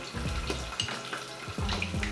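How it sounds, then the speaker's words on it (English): Dim sum, including a bean curd roll and har gow, fries in hot oil with a close, continuous crackling sizzle. Low bubbling thumps pulse through it. "Let it fry until it gets a bit crispy"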